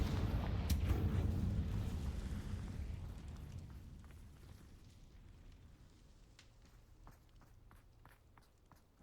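A Confringo fire spell from a Hogwarts video game bursts with a loud, deep rumble at the outset, then slowly fades over several seconds, leaving faint scattered clicks and taps behind.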